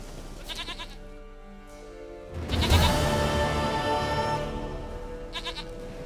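A goat bleats in The Witcher 3 video game, with a short bleat early on, then a long, loud wavering bleat in the middle and a brief one at the end, close and alone.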